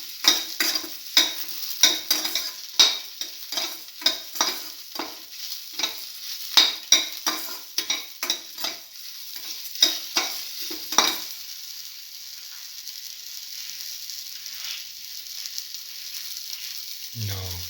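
Ginger and tomato mixture being sautéed in a pan: rhythmic spatula scrapes and stirs over a soft sizzle for about eleven seconds, then only a quiet sizzle remains.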